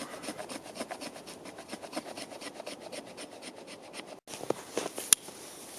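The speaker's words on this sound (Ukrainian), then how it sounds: "Лезом ми також можемо наскріпти таку стружку, але нащо нам витрачати гостроту нашої заточки, якщо ми можемо це робити спокійно обухом." Close, steady rasping as the spine of a Ganzo G720 folding knife scrapes fine shavings from hornbeam wood, a run of quick rhythmic strokes that pauses briefly before a few sharper scrapes and a small click.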